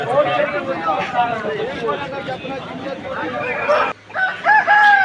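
A rooster for sale at a Sunday rooster market in Vijayawada crows loudly and close, with other fowl clucking around it, over constant chatter from people nearby.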